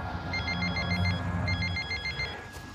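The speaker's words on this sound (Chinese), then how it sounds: "怎么不接电话呀？" A telephone rings in two short, quiet bursts of warbling electronic trills, separated by a brief pause, with no talking over it.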